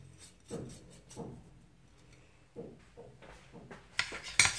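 Fish seasoning of spices, garlic and salt being stirred in a cooking pot, heard as light scraping and clinking of a utensil against the pot in short irregular strokes, growing sharper and more metallic toward the end, with no talking.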